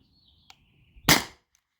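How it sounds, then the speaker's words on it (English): A Beeman BP50 CO2 air pistol fires a single sharp pop, close and crisp with a short hiss of gas trailing off, after a faint click. "I'm just gonna shoot the rest of this gas out of the cartridge"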